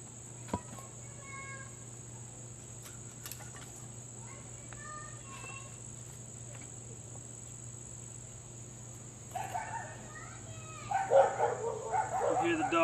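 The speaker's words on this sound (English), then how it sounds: "You hear the dogs going crazy in the background" Several dogs bark in the distance, with rough, irregular bursts building toward the end over a steady bed of chirping crickets and insects in a quiet outdoor setting.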